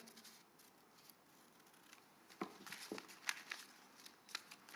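Scissors snip through paper that has been folded in half, making a few quiet, sharp cuts close by against a faint background hiss.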